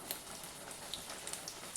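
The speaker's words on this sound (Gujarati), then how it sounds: "નાસ્તાને આપણે કઢાઈમાં નાખી દીધો છે." Leftover roti snack pieces frying in hot oil in a kadhai over medium flame, a steady soft crackle and sizzle with small scattered pops, quiet and continuous with no talking.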